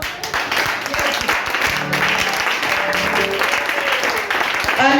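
A church congregation breaks into applause, steady dense clapping filling the room for several seconds, with voices and cheers mixed in and a swell toward the end.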